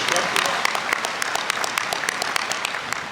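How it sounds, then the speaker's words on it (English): An audience at a school Veterans Day ceremony applauds JROTC and leadership instructors with dense, sustained clapping and a few sharp individual claps standing out over three seconds. "let's give a big round of applause for our JROTC and leadership instructors"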